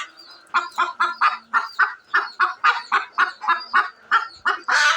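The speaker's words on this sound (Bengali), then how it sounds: "দেশি মুরগি" Native village chickens give a rapid series of evenly spaced, harmonic clucks, about a dozen close, clear calls in steady rhythm with no talking.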